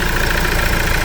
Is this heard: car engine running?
yes